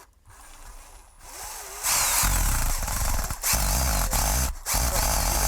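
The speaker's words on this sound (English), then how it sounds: "we're going to take a screw and put through there, going all the way through" A power drill drives a long screw through a house roof to mark a center point for installing a solar ventilator, with several loud whirring bursts separated by short pauses and no speech.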